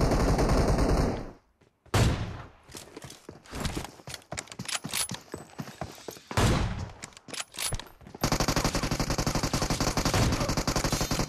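Rapid bursts of gunfire in a Turkish-language video game, with machine-gun volleys and single shots rattling in clusters between brief lulls, close and loud, ending in a sustained dense barrage.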